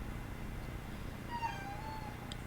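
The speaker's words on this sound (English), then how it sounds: "there he goes again, the little kitty cat who wants his daddy" A small cat gives one faint, drawn-out meow partway through, heard indoors against a steady low background hum.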